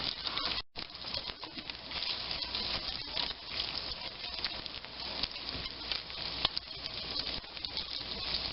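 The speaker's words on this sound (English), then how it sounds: "drain this bacon and put it back in the fry pan" Bacon fries in a fry pan with a dense, continuous crackling sizzle and fine popping spatter, steady and close throughout with no voices.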